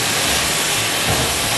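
Onions added to a hot pot while cooking maqluba sizzle loudly, a steady close hissing fry filling the whole moment without pause.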